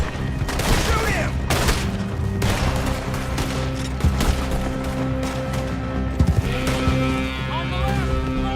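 Gunfire in Red Dead Redemption 2 during a chase: dense, continuous shooting mixed with hoofbeats and game music, with voices shouting over the din.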